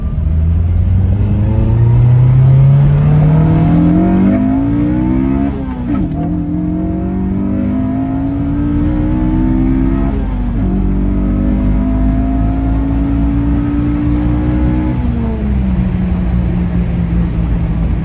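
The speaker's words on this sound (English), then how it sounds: "it's kind of hard to keep it in VTEC and drive" A Toyota MR2 fitted with a Honda K24A engine accelerates hard through VTEC, its pitch climbing in repeated rising sweeps between gear changes, loud and close from the cabin with no talk.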